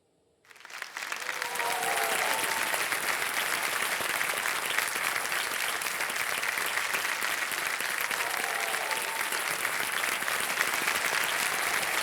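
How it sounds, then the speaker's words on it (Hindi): Studio audience applause on the KBC quiz show stage: sustained, dense clapping that swells in within the first second and holds at a steady loud level throughout, with a few faint voices mixed in. "ये ताली आपके लिए बजाई जा रही है"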